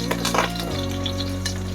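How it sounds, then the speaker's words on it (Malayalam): Small onions, about 150 grams, sizzle and fry in a pan for Kerala-style beef curry, a steady close hiss with light stirring scrapes over a low hum. "ഇതിലേക്ക് ഞാൻ ഒരു 150 ഗ്രാം ചെറിയ ഉള്ളി ഇട്ട് കൊടുക്കുകയാണ്"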